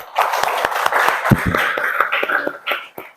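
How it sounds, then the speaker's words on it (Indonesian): Classroom students clapping hands together for attendance, a dense patter of claps filling the room, loud and close, with a few voices mixed in. "Kasih dulu tepuk tangan."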